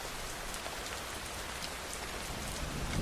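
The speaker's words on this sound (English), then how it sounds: "Listen to the sound of the rain gently falling in the background." Steady rain patters on a surface in a constant, gentle hiss with no letup, soft and even, with no voices or thunder.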